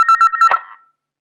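A telephone keypad tone sounds several times in quick succession, loud and close, and ends with a brief click.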